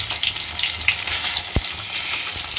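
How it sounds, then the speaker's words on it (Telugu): Fish pieces fry in hot oil in a pan after being flipped, giving a steady, close crackling sizzle with one brief dull knock partway through. "ఇప్పుడు దీన్ని రెండో వైపు తిప్పుకొని ఫ్రై చేసుకుందాం."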